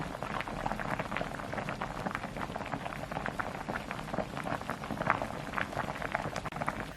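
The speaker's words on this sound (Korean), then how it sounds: "양념이 한 소끔 어우러지게 펄펄 끓였고요" Seasoned broth with pepper and cheongju bubbling hard in a pot, a quiet, steady stream of popping bubbles and small splashes with no voices.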